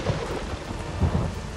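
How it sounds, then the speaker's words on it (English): Heavy rain pours steadily with deep, rumbling thunder rolling underneath in a dark, night-time forest scene of the video game Kena: Bridge of Spirits, a dense, continuous wash of sound with no voices. "The massive trees, the dark night, the fucking rain and lightning."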